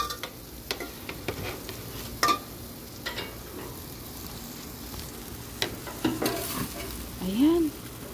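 Chicken barbecue cooking in a pan for lunch gives off a soft, steady sizzle with scattered clicks and scrapes as the pieces are stirred and flipped. Near and fairly quiet, with no talking.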